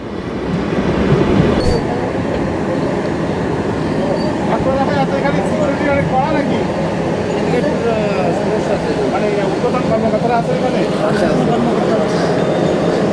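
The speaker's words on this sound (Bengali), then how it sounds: "আমাদের ট্রেন প্রবেশ করলো একবারে সদ্য নিউ পদ্মবিলা জংশন রেলওয়ে স্টেশনে" The Jahanabad Express train rolls into Padmabila Junction railway station with a loud, steady rumble of wheels and carriages, someone talking over the continuous noise.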